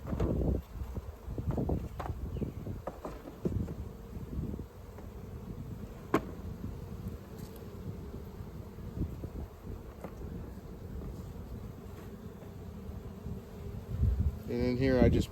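Honey bees swarm around an opened horizontal hive, a steady close buzzing with occasional wind rumble on the mic and brief handling knocks.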